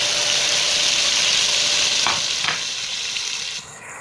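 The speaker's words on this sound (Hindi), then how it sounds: "अब आप इसको 1 से 2 मिनट अच्छी तरह भुनाई कर लें इसकी।" A steady, loud hiss and crackle of ground spices (red chili, turmeric, coriander) with salt frying in a pan for chicken aloo shorba, with a couple of soft stirring scrapes before the sizzle eases slightly near the end.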